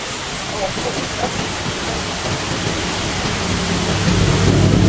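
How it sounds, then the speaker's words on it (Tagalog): Aliwagwag Falls in Davao Oriental pours as a loud, dense, continuous roar of falling water that builds slightly toward the end, with no break in the rushing wash. "Ayan ang pinakamagandang falls dito. Davao Oriental Aliwagwag Falls."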